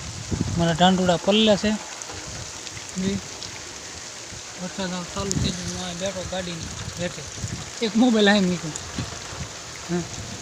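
Steady rain hisses throughout as a broadband wash, with people talking intermittently over it.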